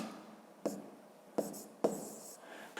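Pen or pencil marks numbers on paper for a school math exercise, with a few brief scratchy strokes, quiet and close, under soft talk.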